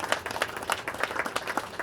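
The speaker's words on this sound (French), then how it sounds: "je peux également vous applaudir avec l'ensemble des entreprises qui ont travaillé dans ce bâtiment." Applause from a small crowd at the inauguration of new technical-services premises, a steady patter of claps at moderate distance, fairly quiet and continuous for the whole stretch.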